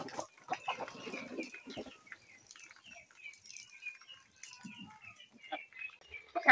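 Chickens let loose in a rainy yard give a faint, scattered series of clucks and chirping calls, with occasional soft rustles and a louder squawk at the very end.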